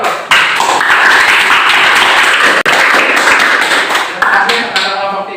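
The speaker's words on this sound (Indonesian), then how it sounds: "Kita kasih aplaus, Bro." Classroom applause for a student group, loud sustained clapping from many hands that continues for several seconds with a brief break partway, while voices talk over it.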